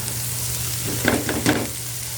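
Garlic, chili and string beans sizzle in a pan with a steady close hiss, while two or three scraping stir strokes stand out briefly in the middle.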